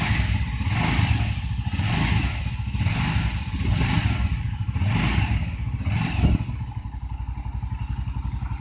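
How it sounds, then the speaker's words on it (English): A Bajaj Avenger Cruise 220 motorcycle starts in neutral and runs, its engine thumping steadily and loud and close, with a pulsing rhythm that eases slightly toward the end. "I'm gonna start the bike."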